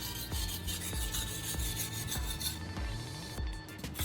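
A metal blade is honed on a finer grit sharpening stone, its repeated gritty rasping strokes coming in a steady back-and-forth rhythm, close but soft.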